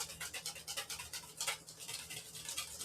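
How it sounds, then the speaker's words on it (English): A whisk beating butter into a béarnaise sauce base as it emulsifies, steady rapid rhythmic swishing and clicking against the bowl, close and continuous without speech. "So make sure you keep whisking."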